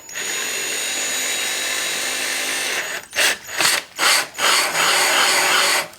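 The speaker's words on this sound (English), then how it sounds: "I'm going to take the drill" A power drill whirs steadily for several seconds on a 6.5 Grendel rifle build, then stops and restarts in a few short bursts before running continuously again.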